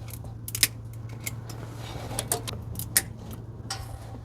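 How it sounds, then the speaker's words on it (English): Scissors snip through old zip ties bundled on semi truck wiring during LED light installation, giving a string of quiet, sharp, irregular clicks and cuts up close with no talking. "Might as well cut some of these old zip ties off of here."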